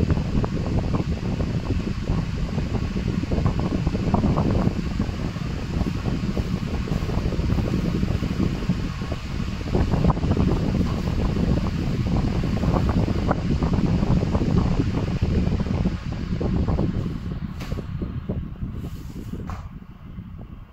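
Electric fan refitted with a brushless DC motor runs steadily, a continuous close airy whoosh of moving air with no talk.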